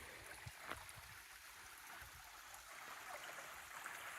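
Gray Creek flows beside a forest road, a soft, continuous rush of running water heard faintly and evenly throughout.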